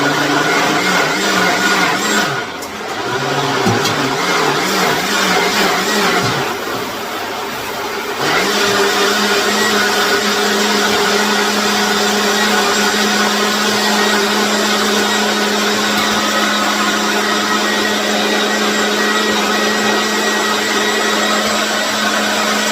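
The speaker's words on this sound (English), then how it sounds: "So we're going to liquefy" A kitchen blender runs steadily at high speed liquefying juice, a loud continuous whirring drone with a brief dip in pitch early on before settling into an even roar for the rest.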